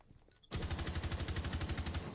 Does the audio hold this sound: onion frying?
no